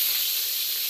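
Eggplant slices dropped into hot oil in a kadai sizzle with a steady, loud, bright hiss that holds evenly throughout, with no voices.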